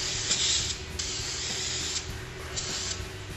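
Cleaner sprayed over an air filter, a steady hissing spray broken into several bursts with brief pauses, close by and fairly loud.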